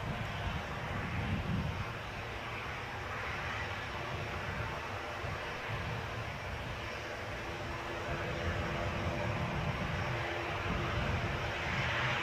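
A helicopter flying near an airport, a steady broad engine and rotor roar whose pitch slowly shifts as it moves, fairly distant and continuous throughout.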